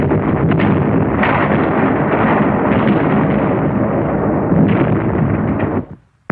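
Continuous heavy rumbling of World War 2 artillery fire at the Battle of San Pietro, loud and dense with layered booms, fading out near the end.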